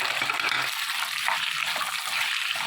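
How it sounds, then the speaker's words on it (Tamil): Potato, drumstick and curry leaves being sautéed in a pan for chicken kuzhambu, giving a steady, moderate sizzle and hiss with faint stirring clinks. "இந்த உருளைக்கிழங்கு, முருங்கைக்காய், கருவேப்பிலை சேர்த்துக்கலாம். நல்லா வதக்கிக்கலாம்."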